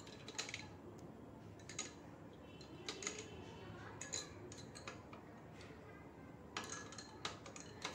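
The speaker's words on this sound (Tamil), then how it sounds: "இப்போ எல்லாத்தையுமே நல்லா மிக்ஸ் பண்ணி விட்டுடலாம்." A spoon stirs and mixes nungu (ice apple) sharbat in a vessel, giving faint, scattered clinks and scrapes at an irregular pace, with a quiet voice now and then.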